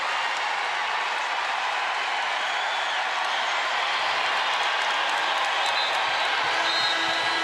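A large crowd of Iowa State fans roars and cheers throughout a women's basketball championship game in the arena, a dense, sustained wash of noise that swells slightly toward the end.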